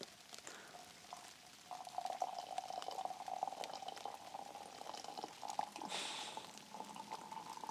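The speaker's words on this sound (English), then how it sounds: "he is going to pour me some tea" Tea poured into a cup at home, a soft steady trickle of liquid running for several seconds at close range, quiet and continuous with a few small clinks near the end.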